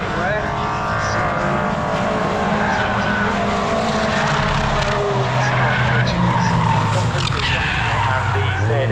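Racing truck at Brands Hatch spinning and skidding during a British Truck Racing meeting, with tyres squealing and engines roaring continuously under a commentator's voice.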